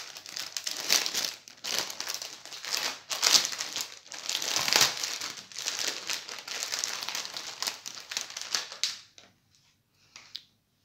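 Plastic packaging from a cross stitch kit crinkled and torn open up close, a busy run of crackling and rustling that ends abruptly in near silence with a few last faint rustles.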